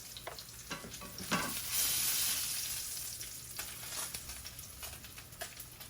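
Salmon fillets frying in a pan sizzle steadily with a soft crackle, with a few scraping clicks and a brief louder hiss as the pieces are turned over; no talking.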